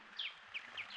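Bulbuls and thrushes calling at a rocky pool where sooty-headed and black-headed bulbuls bathe; several short, high chirping notes repeat at a steady pace, moderately near over soft background hiss.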